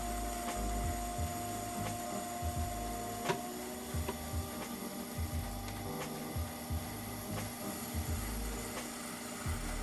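A Mud Tools trimming tool shaves a thin base on a clay pot spinning on a pottery wheel, giving a soft steady scraping rub with faint periodic ticks over a constant motor hum, close and quiet, no voices.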